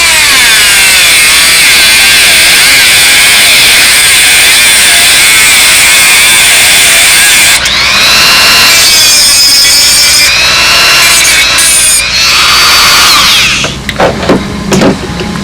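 A power tool trims excess screw ends on a prototype carbon-fibre wing, a loud, continuous high-pitched grinding whine that shifts in pitch partway through and breaks into short uneven bursts near the end.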